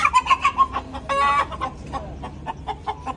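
A red local rooster clucks in quick, rhythmic bursts close by, then lets out a short, strained crow-like call before resuming a run of sharp clucks.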